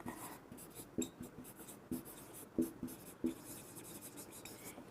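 A pen scratches across paper in short, separate strokes with small clicks, close and quiet, with no talking.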